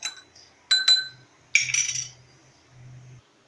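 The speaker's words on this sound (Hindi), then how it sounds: "अब मैं लेमन जूस भी डाल के इसको अच्छे से मिक्स कर लूँगी।" A spoon clinks against a glass of herbal tea as lemon juice is stirred in, a few sharp ringing taps close up, followed by a soft low rumble.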